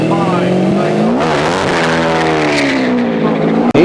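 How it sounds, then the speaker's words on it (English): McLaren M6 GT, the first McLaren road car, racing up the Shelsley Walsh hillclimb: a loud, close, high-revving engine howl that climbs and dips in pitch through gear changes, with a commentator talking over it. "Here's Martin now in the unique and beautiful McLaren M6 GT, the very first McLaren road car"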